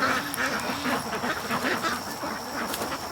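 Several free-range ducks quack close by in a rough, steady chorus of overlapping calls, with a faint high tone in the background.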